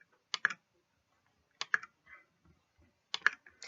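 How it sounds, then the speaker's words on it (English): Three sharp keyboard key presses, each a quick double click, spaced evenly about one and a half seconds apart on a computer keyboard, close and fairly quiet with soft clatter between. "And now I press the spacebar."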